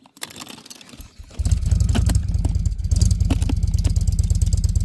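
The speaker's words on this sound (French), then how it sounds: "C'est nos voisins de camping qui partent en moto." A motorcycle engine starts up and idles with a steady low throb as camping neighbours prepare to ride off, loud and close, with sharp clicks and knocks over the rumble.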